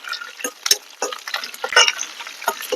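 Crushed garlic frying in hot tempering oil for a taro root fry, with crackling sizzle and quick stirring scrapes in a pan, close and moderately loud with no voice.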